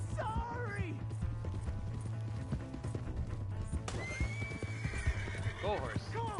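Horse in Red Dead Redemption 2 whinnying with rising, wavering neighs while hooves clip-clop at a gallop, set against game music and ambience, with a second neigh near the end.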